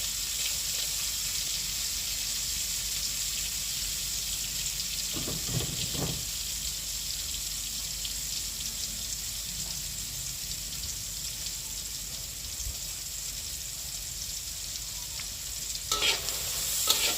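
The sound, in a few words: onions sautéing and being stirred in a frying pan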